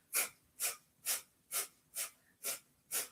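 Seven sharp, forceful exhales through the nose in an even rhythm, about two per second, each a short breathy burst close to the listener during a breath of fire exercise, with quiet gaps between.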